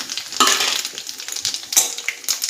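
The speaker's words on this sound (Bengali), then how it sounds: "এতেই আমি মশলাগুলো দিয়ে দেবো" Spices frying in hot oil for Bengali mutton mince, a crackling sizzle with a few louder bursts as they hit the pan, close and steady with no talking.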